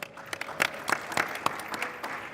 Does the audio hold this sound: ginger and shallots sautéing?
no